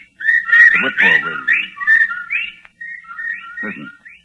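Whippoorwills crying in unison outside a study window as a radio drama sound effect, heard as a close, clear run of rising, warbling whistled calls with no talking, probably a person imitating the birds.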